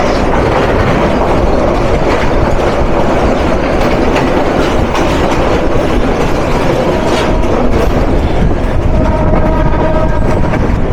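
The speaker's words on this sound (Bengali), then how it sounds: "এখন আমাদের সাথে দেখা হবে লালমনিরহাট থেকে ঢাকা অভিমুখী ট্রেন নাম্বার 810 বুড়িমারি এক্সপ্রেস ট্রেনের সাথে" Burimari Express passenger train passing close by in Bangladesh, a loud, continuous roar of carriages with rhythmic clattering wheels and a brief horn-like tone near the end.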